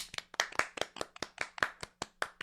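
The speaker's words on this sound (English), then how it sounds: "Everybody clap your hands." About a dozen sharp, evenly spaced hand claps from a small group ring out close and clear in a steady rhythm in a quiet indoor podcast setting, with no talking over them.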